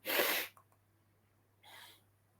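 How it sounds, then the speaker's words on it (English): A person blows their nose twice up close, a strong honking burst followed by a shorter, softer one after a brief pause, in a quiet room. "I've got to blow my nose again."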